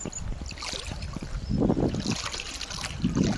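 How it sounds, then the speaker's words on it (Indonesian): Water of the Tiro river in remote Aceh flows over stones with close, steady trickling and gurgling, splashy and continuous for a few seconds with no talking. "aliran sungai Tiro."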